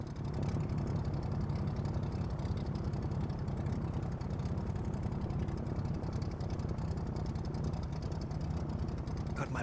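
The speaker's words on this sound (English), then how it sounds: "my plane sounds like some old diesel engine right now" Airbus A320 engine idling in Microsoft Flight Simulator, heard as a steady, low, rough drone with a fine rapid pulsing like an old diesel, quiet and constant throughout, with no clear voices.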